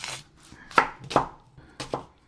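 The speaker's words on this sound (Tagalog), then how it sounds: "Ganyan lang ang hiwa ng onions." Onions being chopped with a knife for Filipino chicken tinola, made up of five sharp, separate blade strikes on a cutting board. The cuts land in two loose pairs with a single stroke between them, close and clear with no talking.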